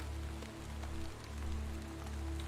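Steady rain falls in the video game Chasing Static, a dense, even hiss at moderate level over a low droning hum, with no break across the span.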